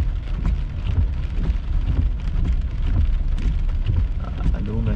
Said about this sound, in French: Baie-Saint-Paul, orage et tonnerre et éclair.